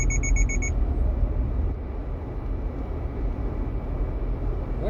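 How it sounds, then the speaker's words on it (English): Short, evenly spaced electronic warning beeps from a car's driver alertness system, a quick bright series of tones in the first moment, then only the steady low rumble of the vehicle on a morning commute. "So that beep beep beep told me to stay alert."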